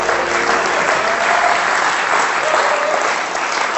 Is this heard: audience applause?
yes